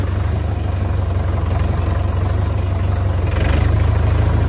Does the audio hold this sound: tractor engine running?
yes